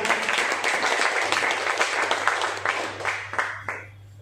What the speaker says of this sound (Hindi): सर के लिए भी बार जोरदार ताली हो जाए